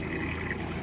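Hot and cold water runs from a camper sink tap on a -16 F night, a brief steady flowing rush close by.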